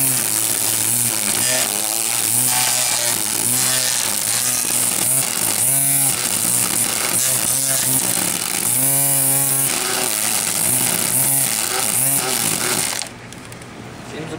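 An Earthwise cordless 18V string trimmer with automatic line feed runs steadily and loudly for about thirteen seconds, its motor whine shifting slightly in pitch, then cuts off abruptly.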